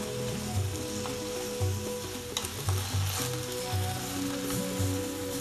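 Mushroom sauce sizzling and frying steadily in a pan, a Cameroonian dish made with calabash-style ingredients and served with plantain, with faint scrapes and stirring sounds over the continuous hiss.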